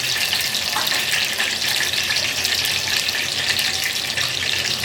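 Cumin and mustard seeds sizzling in two spoons of hot oil for misal, a loud, steady, close frying hiss that runs unbroken with no voices.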